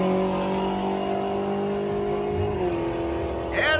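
Nitrous-fed LS-powered Monte Carlo drag car roaring down the right lane at a big-rim drag race, a loud sustained engine drone with steady harmonics that shifts near the end as it pulls away.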